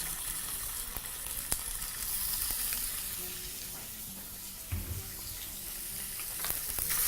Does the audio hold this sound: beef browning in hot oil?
yes